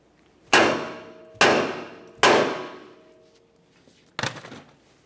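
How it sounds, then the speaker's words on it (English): Four loud metallic clangs of a hammer striking the steel steering knuckle of a 1994-1997 Honda Accord, close up, each ringing out briefly; three evenly spaced, then a pause before the last. "we'll continue on with a hammer, causing some vibration on the steering knuckle"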